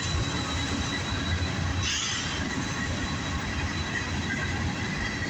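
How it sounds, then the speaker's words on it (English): An empty CSX coal train rolls past northbound, a loud, continuous rumble of cars with wheel squeal rising briefly partway through; no one speaks. "Now we got an empty coal train, northbound on CSX."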